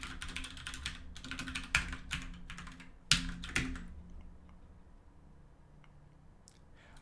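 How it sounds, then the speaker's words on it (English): Bursts of rapid typing on a computer keyboard during solo game development, clicking keys in quick clusters with pauses between, close and fairly quiet, with one sharper louder strike midway and nobody talking. "Who typed that?"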